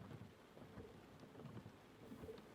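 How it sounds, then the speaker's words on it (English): A thunderstorm with rain plays quietly: a soft, steady patter of rain with low rumbles of thunder rolling underneath, and no one speaking. "Play the storm again."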